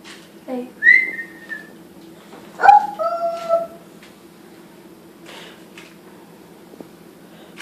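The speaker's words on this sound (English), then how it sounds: "Whistle for him." Several bright whistled notes from a person calling a dog, a rising two-part whistle near the start and a cluster of sliding tones a couple of seconds later, fairly close over a steady low hum, with quiet gaps between.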